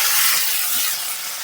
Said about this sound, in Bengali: এখন দেব কালো জিরে, শস্য, কাঁচা লঙ্কা, পেঁয়াজ